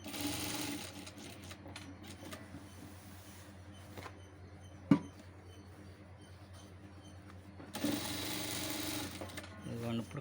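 A sewing machine stitches a school uniform collar, running in steady mechanical bursts at low volume with a pause in the middle, while someone talks over it.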